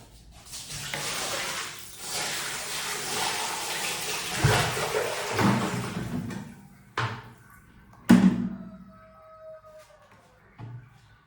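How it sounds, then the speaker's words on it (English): Water rushes and gurgles down a drain in a building under construction in Ghana for several seconds, then fades, followed by a few sharp knocks and clunks. "let's go ahead and see how the water flows"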